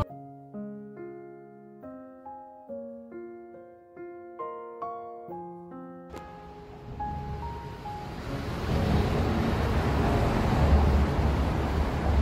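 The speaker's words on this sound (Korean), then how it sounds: "습한 바람이 불어요." Humid wind blows steadily along a foggy seaside walking trail in Busan, rising into a broad, constant rush in the second half after a stretch of plucked music.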